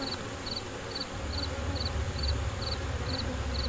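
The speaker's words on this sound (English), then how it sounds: "Lots and lots of bees." Many honey bees on a hive frame make a soft, continuous buzzing drone, with a low rumble underneath and faint, evenly repeating chirps from other insects in the background.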